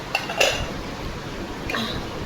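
A few light clinks of dishes and lids being set down, brief metallic taps over a quiet room, with no talking.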